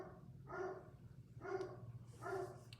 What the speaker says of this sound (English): He's just barking out the side.